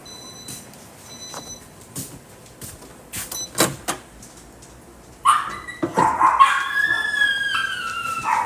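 A dog gives scattered yips and barks, then breaks into louder, high-pitched yelping and whining that keeps going near the microphone, with a few knocks like a door.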